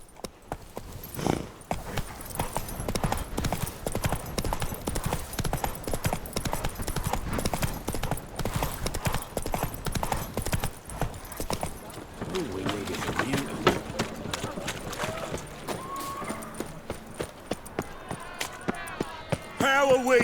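Galloping horse hooves in The Witcher 3 video game, a steady rapid clip-clop running through the whole passage at close range, with occasional game voices and music layered over it.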